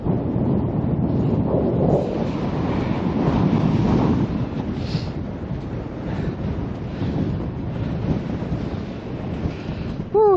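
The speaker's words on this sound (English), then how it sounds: "Woo, it's windy." Strong wind buffets the microphone on an open beach, a continuous loud roar with rumbling gusts and surf underneath, fading slightly toward the end.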